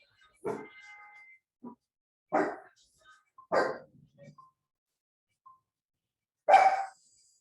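A dog barks in several sharp, separate bursts with quiet gaps between them, fairly close by in an otherwise still room.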